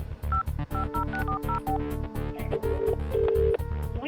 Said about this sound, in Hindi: We are getting a busy tone on this number.